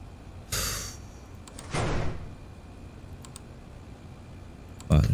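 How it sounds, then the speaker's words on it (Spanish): A door closes in the horror game Feed the Entity, with two brief swishing pushes followed by a sharp thump near the end, and faint clicks in between. "tengo que cerrar la puerta"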